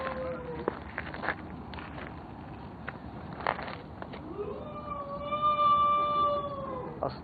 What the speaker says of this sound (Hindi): यकीन करें ऐसे कुत्ते रोते हैं यार